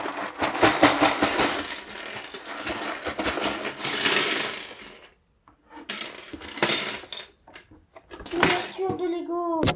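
Lego pieces tipped out of their bags: dense bursts of small plastic bricks clattering and rattling onto a surface, several pours separated by short pauses, with light rustling near the end.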